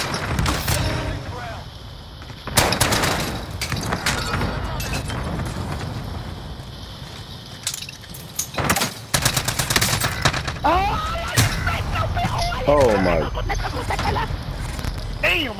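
Rapid gunfire from Call of Duty Warzone on Rebirth Island comes in repeated bursts and single shots, loud and close, mixed with game noise while a player talks excitedly over it.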